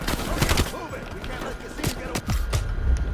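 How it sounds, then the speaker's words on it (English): Rapid bursts of gunfire in the Call of Duty Black Ops Cold War campaign on veteran difficulty, several close, sharp shot clusters and impacts layered over a busy game mix, with a voice speaking. "A lot of bullets came at me and I died."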